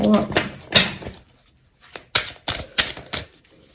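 Tarot cards being shuffled, heard as a series of quick crisp riffling bursts with short pauses between, close and fairly loud, with a voice talking at moments.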